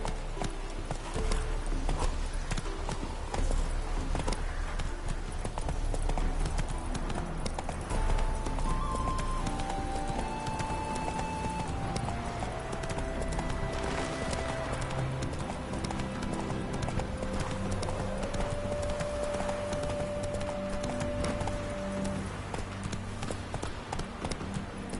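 Horse hooves clip-clopping at a steady gallop in the Witcher 3 video game, a continuous rhythmic patter lasting throughout, with tonal music lines and occasional game sounds layered on top.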